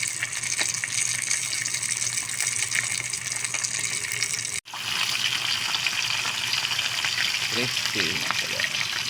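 Sea tilapia fish frying in oil gives a loud, steady crackling sizzle throughout, broken by a brief gap midway, with a person talking over it.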